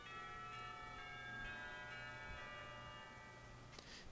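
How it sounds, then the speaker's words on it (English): Bells peal in a ringing, sustained tone in the background of a visual novel scene, steady and moderately faint, with a brighter strike near the end. "If it weren't for the pealing of bells,"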